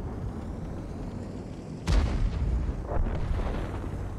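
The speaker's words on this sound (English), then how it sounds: "your artillery battery, which, as y'all see, just chunks. And it shoots about once every 5-6 seconds." Distant artillery battery firing in the Order of War strategy game, with a single deep boom near the two-second mark standing out from a steady rumbling battle din, followed by a weaker thud later.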